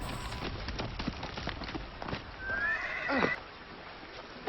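Horses gallop with a rapid clatter of hooves, then one neighs loudly and shrilly as the hoofbeats fade, a sound effect in an audiobook reading of Treasure Island.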